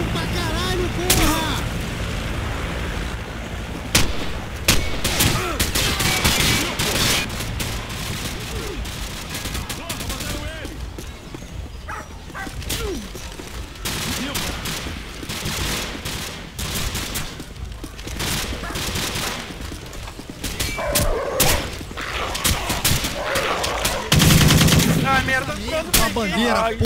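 Rapid bursts of Call of Duty gunfire crackle almost nonstop, mixing machine-gun rattles and single shots, with a voice shouting over the action during a capture-the-flag match on a favela map.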